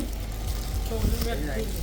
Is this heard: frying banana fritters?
yes